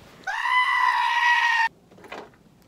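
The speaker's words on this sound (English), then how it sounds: "a sheep." A single sheep bleats loudly and close by in one long, wavering call lasting over a second, followed by a short, fainter rustle.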